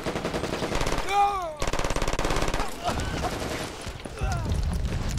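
Rapid automatic gunfire from weapons in the video game Brink, dense bursts of machine-gun shots with short pauses and metallic pings, loud and close, with players talking over it.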